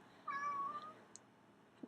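A house cat meows once, a drawn-out, wavering cry early on, fairly close but soft, during a quiet guided breathing exercise, with only faint room noise and a couple of small clicks afterward.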